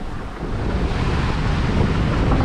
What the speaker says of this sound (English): Still windy out here.